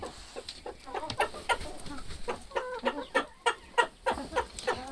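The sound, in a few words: chickens clucking while eating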